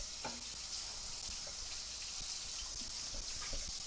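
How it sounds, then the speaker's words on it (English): Hands are rinsed under a running kitchen tap, a steady close hiss of flowing water with faint splashes throughout. "And rinse off my hands."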